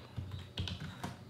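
Keystrokes on a computer keyboard while typing a network command into a Windows command prompt, a few close, sharp clicks in an irregular rhythm with a louder press near the end, no voices.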